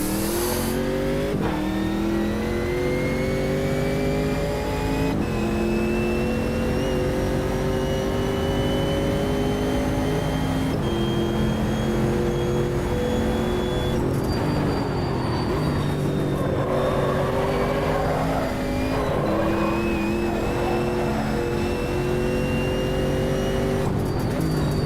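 Race car engine in Automobilista 2 revving hard and continuously, rising and falling through gear changes with a loud, close, buzzing tone that holds for the whole stretch, no voices.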